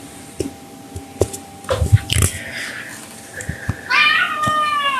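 A cat meows indoors, rising into a drawn-out, wavering cry toward the end, amid scattered knocks and handling noises at moderate loudness.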